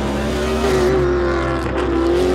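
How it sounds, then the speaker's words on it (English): A race car engine drones loud and steady, a continuous buzzing roar with a slowly wavering pitch, close up and unbroken with no talk. "listen to the sound of the engine."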